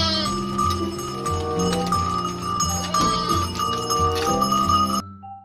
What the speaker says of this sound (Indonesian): Wow, ada hewan domba ya teman-teman.